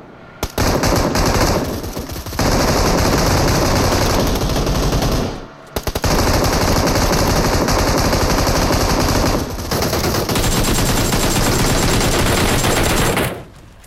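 Loud, sustained automatic gunfire in a mobile shooter game, long rapid bursts broken by a couple of brief pauses, with no talk over it.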